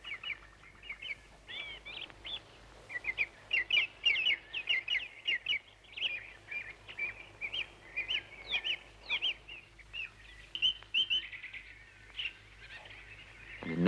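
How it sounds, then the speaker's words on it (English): Lively chirping and twittering bird calls come in quick overlapping bursts, with a light fluttering whir of wings mixed in, fairly close and steady for most of the stretch. "he heard a whir of wings above his head"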